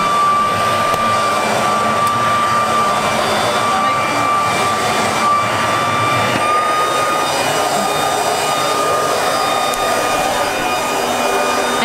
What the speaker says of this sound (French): passer un bon coup d'aspirateur